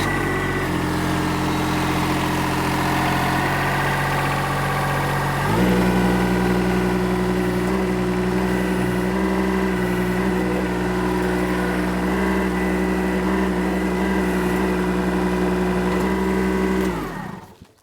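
A KPC mini dumper engine runs steadily throughout while the machine maneuvers, a loud close mid-pitched drone whose revs step up around the middle and hold before cutting off abruptly at the end.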